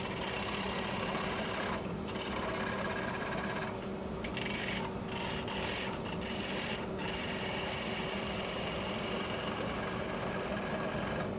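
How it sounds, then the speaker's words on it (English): A woodturning lathe spins a cracked, warped piece of very green firewood while a tool cuts it, giving a continuous faint rasping drone with short scraping bursts at intervals. "This wood is very green and it's just cutting like butter."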